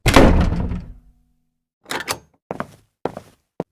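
A door in a tense home setting during a purge night opens or shuts with a loud thump, followed by a few shorter knocking or latching thuds spaced through the rest of the moment, with no voices.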